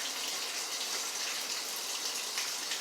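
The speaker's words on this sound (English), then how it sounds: "Some water in that pipe." Water running steadily from a pipe on a hot water heater whose tank was never drained, a continuous close hissing gush with no talk.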